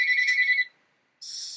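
A mobile phone rings with a bright, tonal electronic ringtone in two bursts separated by a short silence, fairly close and clear with no talking over it.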